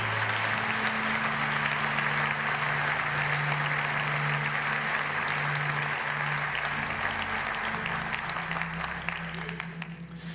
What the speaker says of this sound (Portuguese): Você pode dar um aplauso ao Senhor nessa noite?